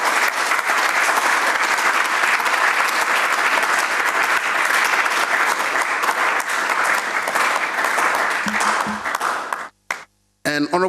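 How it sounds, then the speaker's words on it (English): Thunderous, loud applause fills a room for a Ghanaian minister designate, a dense sustained roar of clapping hands lasting about ten seconds before cutting off abruptly, with brief voices at the end. "A thunderous round of applause for the Honorable George Mreku Duka."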